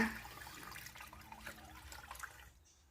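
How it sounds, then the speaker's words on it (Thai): Plain water pours steadily into a coconut milk and coconut water mixture for a Thai coconut jelly dessert, a continuous close splashing gush that tapers off at the end. "ถ้า กะทิกับน้ำมะพร้าวไม่พอ เราก็เติมน้ำเปล่าแบบนี้ค่ะ"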